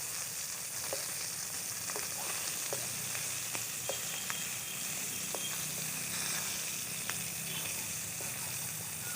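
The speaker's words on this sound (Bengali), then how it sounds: "বন্ধুরা কম তেলেও মাছ ভাজা যায়" Fish frying in a small amount of oil in a village kitchen, a steady close sizzle with scattered pops and crackles running throughout, with no talking.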